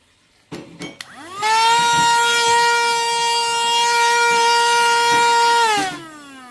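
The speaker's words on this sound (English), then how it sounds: "This first one, this is a blower." A Temu car vacuum switched into blower mode, a brief click and handling knocks, then a loud, steady high-pitched motor whine that holds for several seconds before winding down.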